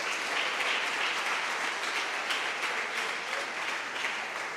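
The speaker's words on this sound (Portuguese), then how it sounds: "Você pode aplaudir o Senhor por isso?" A church congregation applauds the Lord in a steady, moderately loud wash of many hands clapping, continuous and even with no talking over it.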